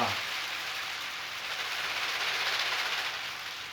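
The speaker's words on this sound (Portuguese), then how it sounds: "É o pau de chuva." A homemade rain stick, a cardboard tube with popcorn kernels and small sticks inside, gives a steady, soft hissing patter like falling rain, with the rush swelling slightly midway and then easing off.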